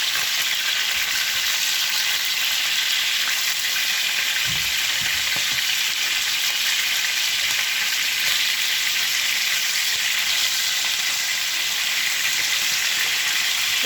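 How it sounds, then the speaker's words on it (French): Pieces of cod frying in a pan, giving a steady, close sizzle with soft crackle throughout and a brief low bump partway in, with no talking. "je surveille la cuisson de mon morue de près"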